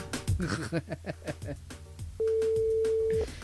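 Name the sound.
telephone ringing on an outgoing call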